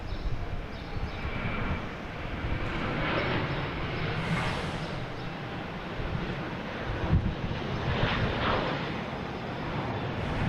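A JetBlue Airbus A321 departing Boston Logan for Punta Cana gives a steady, broad jet roar that swells and rumbles for about ten seconds, heard from a distance under gusty wind buffeting the microphone.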